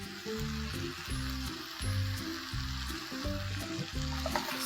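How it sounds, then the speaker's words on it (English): Steady close sizzling of vegetables, including capsicum, frying in a hot pan, a constant crackling hiss with a low background hum throughout. "Now that everything is sizzling away and the capsicum has also cooked"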